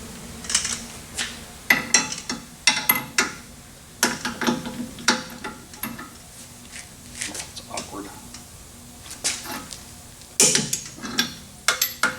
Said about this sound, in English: Go ahead and torque that again.